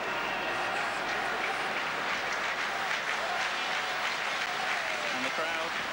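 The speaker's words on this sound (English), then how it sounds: "And the crowd starting to get behind the Belgian side." Football crowd at a Belgium versus Wales Euro 1992 qualifying match, a steady wash of applause and cheering from a large stadium, heard behind a commentator's voice.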